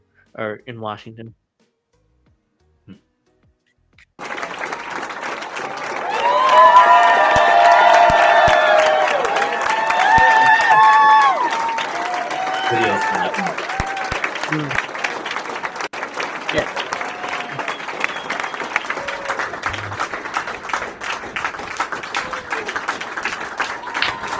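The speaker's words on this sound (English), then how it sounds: "Look at all these bureaucrats just clapping away." Government officials in Washington clapping and cheering, sustained loud applause from a large crowd with whoops and voices mixed in, running nearly twenty seconds after a brief quiet opening.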